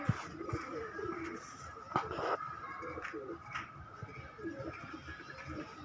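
A Dhanne wali breed pigeon coos softly amid faint background noise, with a few brief knocks and rustles around it, the calls low and close.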